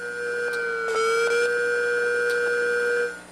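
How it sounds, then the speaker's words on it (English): A failing hard drive's platter motor whines in steady high tones that dip and stutter as it fails, then resume as it restarts; close, loud and continuous for a few seconds. "That was the sound of the actual platter motor failing and then restarting."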